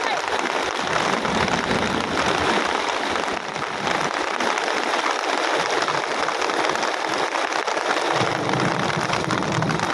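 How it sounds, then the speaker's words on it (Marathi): Heavy monsoon rain pours down on a soybean crop in a dense, continuous roar, loud and close, steady across the whole stretch with no pauses. "पाऊस चालू आहे मित्रांनो बघा"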